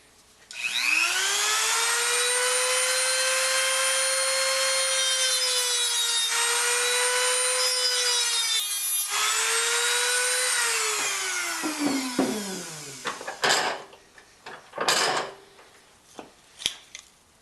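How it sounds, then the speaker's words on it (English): A handheld Dremel rotary tool whines at high speed while cutting, a loud, steady buzzing tone that dips in pitch under load and then winds down into a few short bursts and clicks near the end. "So I think I'll take the handy Dremel and build myself a set."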